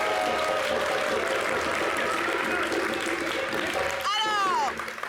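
A studio audience applauds in a sustained, loud, dense burst during a vote for yellow, lasting about four and a half seconds before cutting off, followed by a brief rising tone and a voice.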